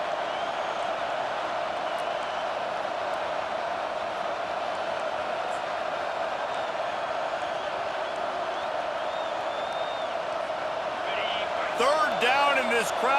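Stadium crowd roaring steadily throughout a College Football 25 game on third down, dense continuous noise with a brief swell of whistles and cheers near the end, a commentator talking over it.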